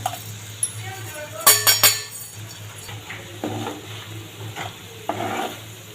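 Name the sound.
stirring chili and fenugreek powder in oil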